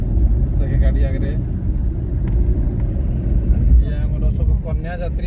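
A vehicle rumbles steadily close by at a wedding gathering, a low continuous engine drone with people talking over it throughout.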